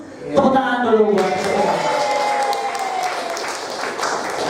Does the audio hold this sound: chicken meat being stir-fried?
no